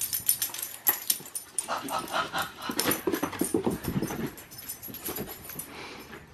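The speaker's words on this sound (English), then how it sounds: "He ripped it open earlier, so now he's gonna take all the fuzz out." A dog tears stuffing out of an already ripped squeaky toy, producing close, irregular bursts of ripping, chewing and snuffling with scrabbling movement and occasional panting.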